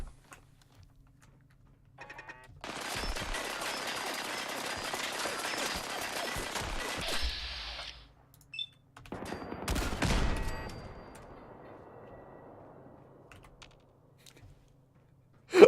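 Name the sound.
cannon fired indoors in video game Fallout 4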